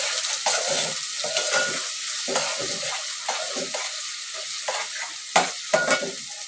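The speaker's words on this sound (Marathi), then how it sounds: "कांदा भाजून घ्यायचा चांगला ब्राऊन करायचा" Chopped onion frying in a pan for a chicken curry, hissing steadily while a spoon scrapes and stirs in repeated strokes, with a few sharper clinks near the end; close and fairly loud, no talking.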